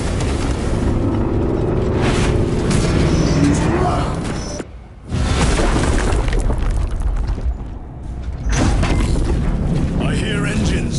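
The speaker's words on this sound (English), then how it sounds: "I hear engines." Heavy, roaring engines approach in the sci-fi action game Warhammer 40K: Space Marine 2, a loud sustained rumble with blasts, cutting out briefly twice before surging back.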